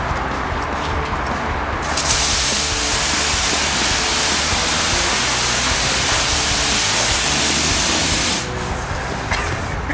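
Wax sprays from a wand at a self-service car wash: a loud, steady hiss of spray starts abruptly, holds for about six seconds, then cuts off, with quieter background noise before and after.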